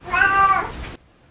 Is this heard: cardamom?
no